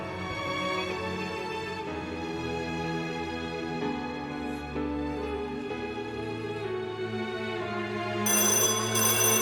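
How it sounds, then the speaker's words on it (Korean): A telephone bell rings continuously and loudly in a steady repeating pattern, close by with no voices, and a brighter burst of ringing comes near the end. "호련히 전화 소리가 울렸다."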